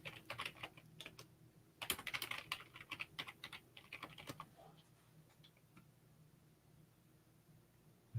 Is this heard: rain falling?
no